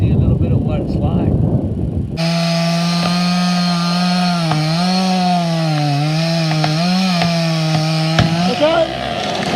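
Following brief talk, a chainsaw cutting down an ash tree starts and runs loud and close with a steady buzzing drone that bogs and rises as it bites into the wood, then cuts off near the end.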